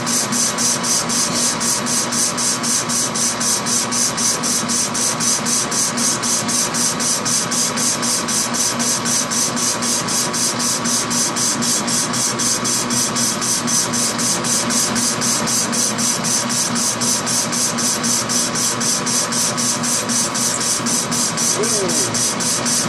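A metal lathe with carbide bits makes partial cuts on 8 inch round stock, producing a loud, continuous mechanical drone with a steady high-pitched whine and rapid rhythmic vibration lasting throughout.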